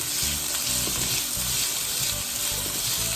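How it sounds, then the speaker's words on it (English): Shrimp and chicken stir fry sizzles loudly and steadily in a pan over medium-high heat, with rhythmic scraping and stirring strokes cutting through the constant hiss. "put it on a medium-high heat, but keep stirring your food"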